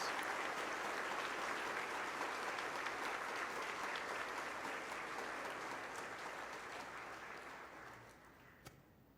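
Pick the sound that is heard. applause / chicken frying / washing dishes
applause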